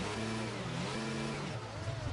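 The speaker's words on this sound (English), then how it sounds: "You can hear the engine of it." Safety car engine in a Formula 1 racing video game at the Bahrain Grand Prix, a continuous mid-pitched drone that steps through short revving surges, heard alone and fairly loud.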